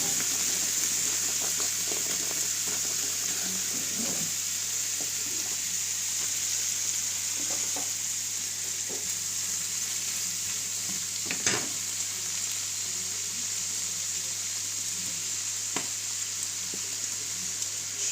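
Shrimp and garlic frying in a spoonful of olive oil for shrimp noodles, a steady close sizzle with occasional stirring clicks and faint splashes, no voices.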